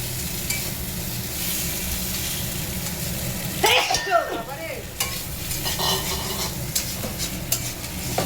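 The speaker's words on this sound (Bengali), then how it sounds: "এই যে মশলাটাতে এই মাছটা দিয়ে দেবো, মাছের মাথা আর লেজাটা দিয়ে দেবো।" Fish pieces, including the head and tail, fry in a spice paste in a pan with a constant close sizzle, broken by a burst of stirring and scraping midway and a faint voice at times.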